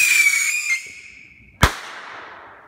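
A loud firework launches with a falling shrill whistle, then bursts in a single sharp bang that trails off into a crackling decay outdoors.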